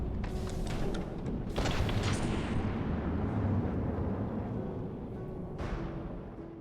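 A nuke explodes in the naval video game From the Depths, a deep rumbling blast with several sharp bursts early on and another crack near the end over a sustained roar.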